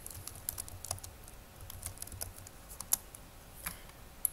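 A name is typed on a computer keyboard as a quick, uneven run of light key clicks, fairly close and quiet, with no speech over it.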